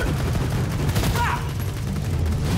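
Gunfire in the shooter game Borderlands 2, a steady burst of rapid shots running throughout at moderate loudness with a busy game soundtrack underneath.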